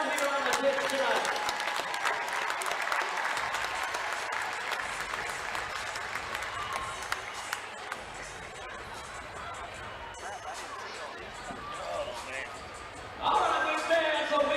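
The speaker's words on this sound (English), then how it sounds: "How about a big round of applause for our future Wichita Wings players down here on the pitch tonight." Sustained crowd applause fills an indoor soccer arena at a Wichita Wings game against the RGV Barracudas, a dense wash of clapping with crowd noise, swelling again near the end, and a voice talks over it.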